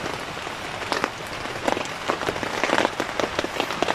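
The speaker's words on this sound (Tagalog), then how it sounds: "Medyo lumalakas na yung ulan." Steady rain drumming on a surface nearby, dense patter of drops growing busier and louder over the few seconds, with no voices.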